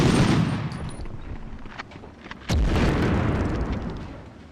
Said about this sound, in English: Was that a grenade? Yeah, it was.